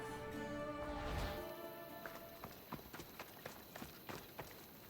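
Horse hooves clip-clop in a steady trotting rhythm on hard ground in the Assassin's Creed video game, moderately close, following a brief burst of other game sound at the start.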